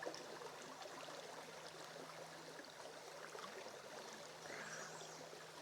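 A spring-fed creek in Minnesota's Driftless Area at Beaver Creek Valley State Park flows steadily, a continuous close trickle and babble of water that holds even throughout with no talking.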